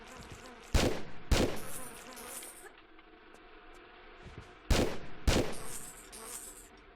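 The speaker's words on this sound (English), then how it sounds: "Now to take care of some annoying wasps." Wasps buzz steadily in Tomb Raider 3, with four sharp, loud gunshots cutting through, two early and two later, over a quieter droning background.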